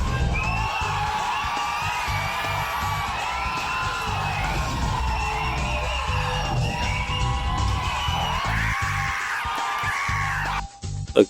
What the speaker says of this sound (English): Look, people are cheering,